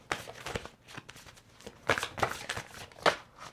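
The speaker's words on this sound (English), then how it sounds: "now we're going to pull some more oracle cards" Oracle cards shuffled by hand in short bursts of papery riffles and soft slaps, close and fairly quiet, with brief pauses between the bursts.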